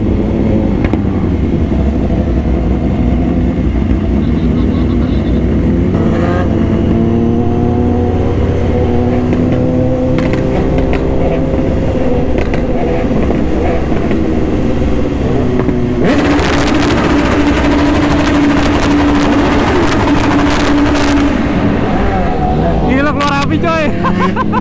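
Two BMW motorcycles, an S1000RR and an S1000R, ride together on a group morning ride, their exhaust droning steadily with rising and falling revs throughout, a louder burst near the end, while riders chatter over the engine noise.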